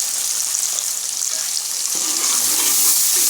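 Dal masala with achar masala sizzles and fries in a pan for a dhaba-style egg dal tarka, a steady hiss of hot oil with a few clinks of stirring near the end.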